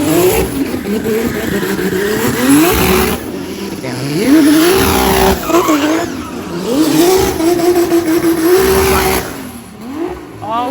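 A built, tuned car running high-ethanol fuel revs hard and loud through repeated rising and falling pulls, with tire squeal and skidding, close by and dominating, while voices shout faintly underneath.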